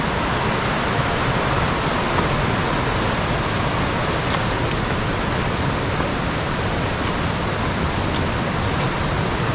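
A waterfall at a scenic spot in Cristina, Minas Gerais, roars in a constant, loud, broadband rush with no voices over it.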